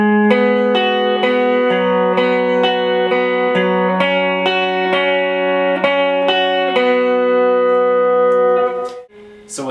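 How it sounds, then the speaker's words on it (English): Clean electric guitar playing the intro lead line of a song, a steady run of picked melodic notes with slight effects coloring, close and loud, ending with a brief scrape near the close. "the whole intro lead goes like this"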